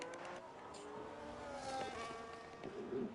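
Race cars in a Formula-style racing video game at the Spain circuit rush past with rising and falling engine whine, several cars overlapping at moderate distance, a steady broadband roar with a brief louder swell near the end.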